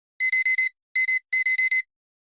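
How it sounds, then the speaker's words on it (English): An electronic alarm clock beeping in quick bursts: four rapid beeps, a pause, two beeps, then four more, loud and close with silence between. "alarm goes off at 6 a.m."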